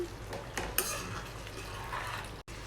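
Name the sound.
mixing paneer butter masala in a pan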